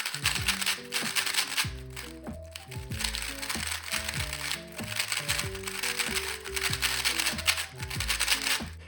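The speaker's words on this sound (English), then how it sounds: "This is what the regular version 100 sounds like." A regular V100 speed cube turned rapidly during solves, giving a steady stream of dense plastic clicks and rattles under continuous background music.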